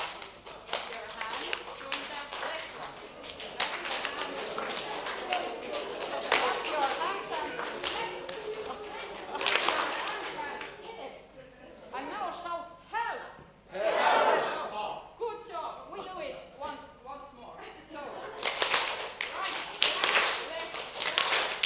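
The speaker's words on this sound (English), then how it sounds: "So clap your hands." A group of people claps their hands in bursts of rapid, loud applause separated by short pauses, with some voices mixed in.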